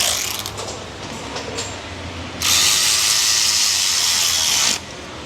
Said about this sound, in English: Electric ratchet.